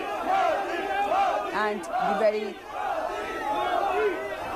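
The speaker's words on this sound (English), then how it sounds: "here we have the crowd there going berserk" A crowd at a Delhi Metro station chants loudly and rhythmically in repeated shouted bursts for a state visit, close and dense, with a voice briefly speaking over it.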